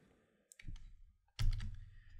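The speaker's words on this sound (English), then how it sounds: "I'm going to use my custom keyboard shortcut, which is Alt F," Two soft clicks from a computer keyboard as an Alt+F shortcut is pressed while working in After Effects, each a brief tap followed by low room noise, quiet and close with no talking.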